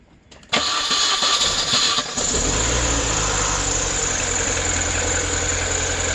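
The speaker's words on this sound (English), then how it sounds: "All right, Jake, fire it up." A MINI Cooper R50 with its power steering pump removed cranks briefly, catches and settles into a steady, loud idle close by, with no voices.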